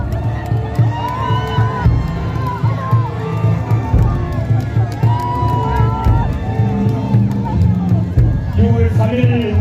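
A large crowd cheers and whoops at an outdoor presidential election rally in Seoul the night before voting, a dense roar of voices close and loud, with an amplified voice over the top.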